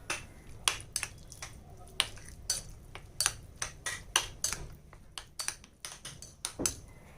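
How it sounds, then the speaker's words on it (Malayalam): Chicken and potato batter stirred in a bowl with a utensil, giving a steady run of sharp, irregular clinks and taps against the bowl, close and fairly quiet, with no talking. "എന്നിട്ട് ഇത് നന്നായിട്ടൊന്ന് മിക്സ് ചെയ്തെടുക്കാം"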